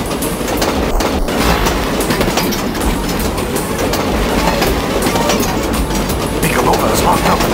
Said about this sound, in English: She's being held captive on a train traveling through the mountains.